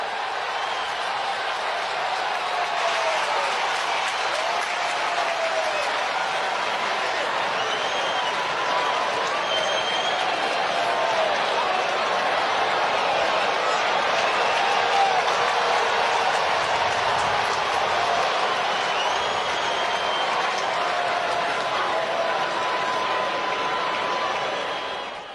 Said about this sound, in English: you hear the fans kind of whistling and cheering